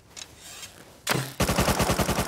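Video game gunfire during a base raid: a single sharp shot, then a rapid burst of automatic fire rattling loudly and evenly close up.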